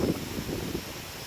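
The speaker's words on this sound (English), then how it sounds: "Getting super windy." Strong wind blows steadily outdoors in bad weather, a continuous rushing roar buffeting the microphone with a brief louder gust at the start, no voices.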